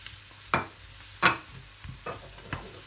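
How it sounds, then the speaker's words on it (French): Bell peppers tumble into a pan of red onions, giving a couple of sharp sizzling bursts followed by lighter stirring scrapes and crackles, close and clear with no voices. "Et je fais suer un petit peu et je reviens vers vous quand on rajoutera le reste. Voilà, et maintenant j'ajoute les poivrons."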